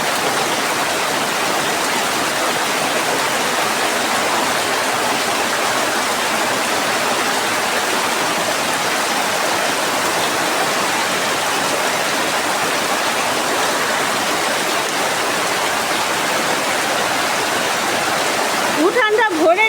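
Heavy rain runoff streaming through a flooded village courtyard during a downpour, a loud, dense, unbroken rush of water that stays steady throughout.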